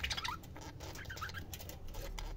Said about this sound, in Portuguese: Esse casal aqui, ó, o macho Lada.